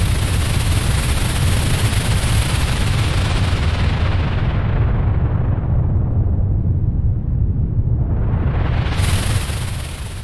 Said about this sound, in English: that's basically this rocket launch in a nutshell